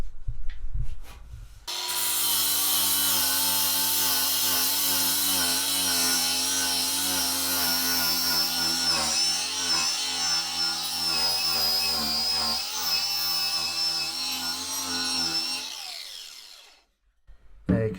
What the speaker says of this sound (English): I'm just going to try one of these little flappy sanding discs on my angle grinder on these flat surfaces.